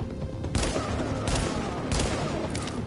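Dense gunfire in a Tom Clancy shooter game, close and loud, with several sharp shot bursts over a constant roar of battle.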